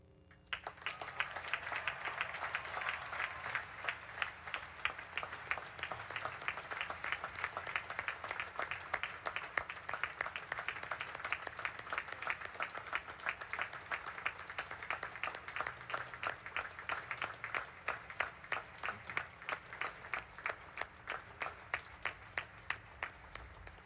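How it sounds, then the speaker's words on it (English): Graduation crowd at the Naval Academy applauding steadily, a dense wash of many hands clapping that runs unbroken for the whole stretch at moderate distance, with no voices over it. "I feel it is appropriate to acknowledge Taylor with a round of applause on this day"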